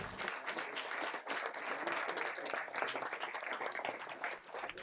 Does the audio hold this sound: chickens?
no